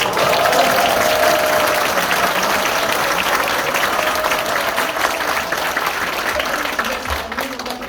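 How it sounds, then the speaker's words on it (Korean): An audience at a book talk with the author applauds steadily for several seconds in an indoor cultural center hall, a dense, even wash of clapping that fades slightly toward the end. "이분들이야말로 박수가 됩니다"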